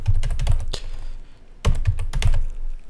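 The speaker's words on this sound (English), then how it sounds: "you want to type it in here." Close, quick bursts of typing on a computer keyboard as a website address is entered, rapid key clicks in two clusters separated by a short pause.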